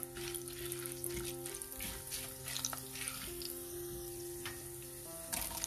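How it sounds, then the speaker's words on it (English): Chana dal frying in a pan with cumin seeds and red chili, a steady close sizzle with light crackle running throughout, no talking. "allow the chana dal to fry a little bit"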